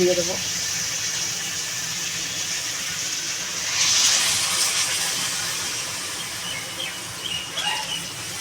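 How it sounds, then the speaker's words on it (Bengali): Water is poured into a pan of cooked-down cauliflower and shrimp curry, giving a steady close hiss and gush with a louder surge midway. "আমি এবার পরিমাণ মতো জল"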